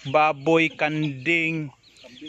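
Native chickens cluck close by on a farm, giving several loud, tonal calls in quick succession before they trail off. Someone speaks briefly over the birds.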